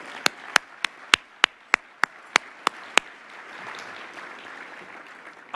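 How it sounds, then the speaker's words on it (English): Cal State Long Beach students are met by a short run of about ten sharp, evenly spaced claps that stop after three seconds, leaving a soft crowd murmur in a hall during a Long Beach mayor's speech. "Let's give them another round of applause for their work."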